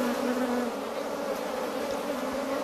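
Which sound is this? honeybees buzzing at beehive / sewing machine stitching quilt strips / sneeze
honeybees buzzing at beehive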